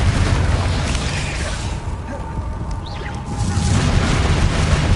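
A Confringo blasting spell goes off in a Hogwarts video game as a loud booming explosion with a roaring burst that fades briefly before the rumble swells again, alone without talk.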